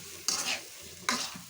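Boiled mung dal with spices for murighonto dal, cooked with fish head, is stirred and fried in a pan: two sharp scrapes of a spoon over a soft background sizzle.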